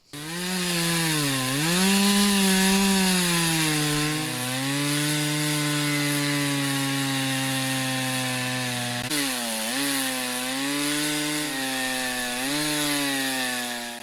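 Chainsaw making the final cut through a felled log, a loud, continuous engine whine that rises and falls in pitch as it bites into the wood, running steadily throughout with no talking.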